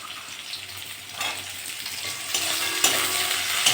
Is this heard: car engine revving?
no